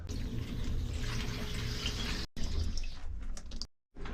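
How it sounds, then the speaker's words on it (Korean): Water trickling and gurgling through pipes of a residential boiler system with trapped air, a steady, close, brook-like flow with a brief dropout midway and another near the end. "이 물 흐르는 소리가 나잖아요 이게 에어가 차가지고 시냇물 흐르는 소리"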